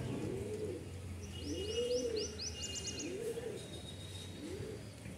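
Pigeons coo in soft, rounded calls repeated about four times, with brief high chirps from other birds over a steady low background hum.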